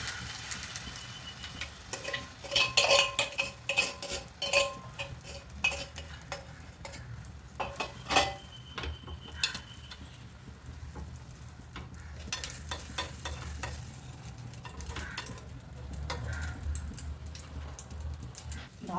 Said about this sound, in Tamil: ஆம்லேட் போடலாம்.